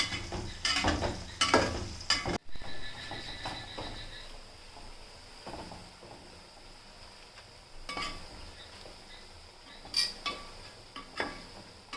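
Raw banana slices fry in hot oil for Onam banana chips, a soft continuous sizzle broken by sharp bursts of scraping and stirring near the start and again toward the end.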